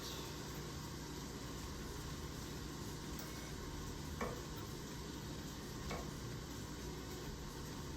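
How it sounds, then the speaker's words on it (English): Vegetables sauté in a pan with a soft, even, continuous sizzle, two faint clicks of a utensil breaking through the steady frying noise. "Now this is ready to throw our other veggies into. Saute it a little bit."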